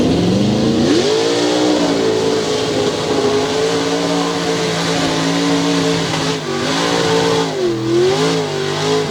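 A 1976 or 1977 Chevrolet launches at a race and roars loudly up close, its engine pitch rising, dipping and rising again through gear changes.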